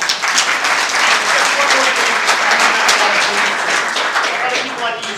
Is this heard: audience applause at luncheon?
yes